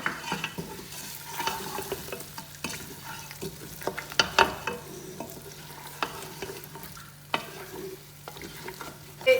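Beef trotters fry in a pot with a soft, steady sizzle while a spoon stirs them, scraping and knocking against the metal in irregular strokes close by. No voices are heard.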